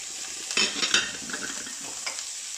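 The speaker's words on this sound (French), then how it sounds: "Et je vais venir mélanger pareil" Olives, lemon and mushrooms stirred into a fish filling for a pastilla-style bourek, a few scraping, moist stirring strokes close up with soft clinks, no talking.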